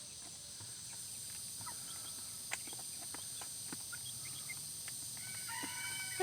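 Black Australorp hens and a rooster in a farmyard, with soft, scattered clucks and brief calls over a steady background hiss, fairly distant and low in level.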